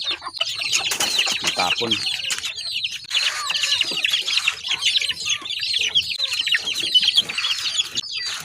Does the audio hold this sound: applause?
no